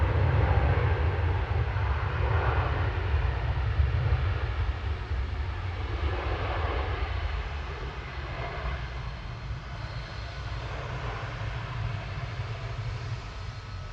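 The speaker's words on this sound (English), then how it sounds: "787-9 Dreamliner coming in from Barbados there." A Boeing 787-9 Dreamliner arriving from Barbados lands at Manchester Airport, its engines producing a steady, broad roar with a deep rumble that eases slightly as it passes, heard from a distance and without talk.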